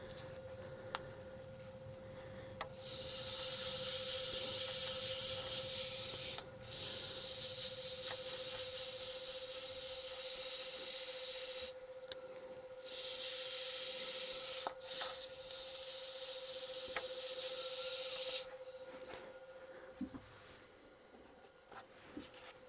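Sandpaper worked over a small cherry wood lidded box through successive grits, giving long stretches of steady, hissing rubbing close by, broken by short pauses, over a constant low electrical hum.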